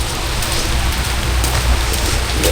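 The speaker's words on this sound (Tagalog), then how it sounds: "Sobrang lakas ng ulan guys." Heavy rain pours steadily and loudly, a dense, constant hiss with no break and no voices.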